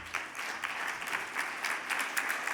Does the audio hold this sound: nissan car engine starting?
no